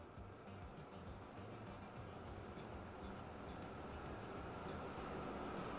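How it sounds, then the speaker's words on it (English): Trains roll by in the game Transport Fever, a quiet continuous rumble of rail traffic with faint rhythmic clicks, distant and steady throughout. "Ancient trains going by past our nice, beautiful double-decker train."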